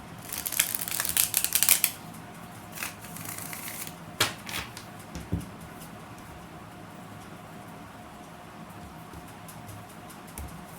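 Tarot cards being shuffled by hand in a quiet room, a dense burst of riffling card noise in the first two seconds, then a few scattered soft shuffles and taps before settling into near silence.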